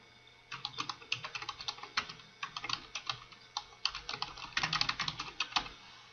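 A computer keyboard clatters close by in quick, uneven bursts of keystrokes as an email subject line is typed, with brief pauses between words.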